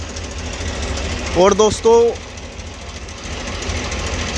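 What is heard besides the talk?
Mahindra 265 DI XV Plus tractor engine running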